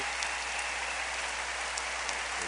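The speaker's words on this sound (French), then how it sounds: "La foule est debout. Une ovation debout pour des prêtres" Dense, continuous applause from a standing conference crowd giving an ovation for priests, a steady wash of clapping from many hands heard at a distance without a break.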